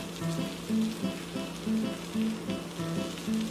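Vegan eggs sizzle and fry steadily in a pan while a spatula slowly presses them around, with rhythmic soft scraping and stirring pulses over a constant close-up crackle.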